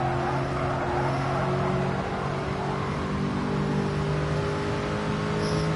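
A car engine drones and revs in the racing video game Gran Turismo 7, a steady, loud whine with sustained tonal pitch throughout, no voices over it.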